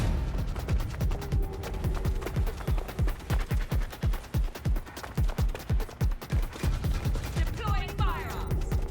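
Gunfire in the Watch Dogs Legion video game: loud, rapid bursts of automatic shots in a steady rhythm, near and punchy, broken by brief pauses, with a shouted voice in the fray.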